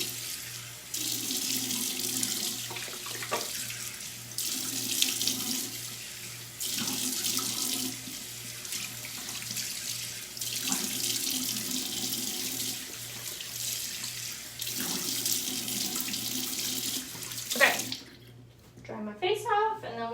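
Tap water runs steadily into a sink while a face is rinsed, a close continuous splashing hiss broken by short pauses as hands dip into the stream, then the flow stops near the end.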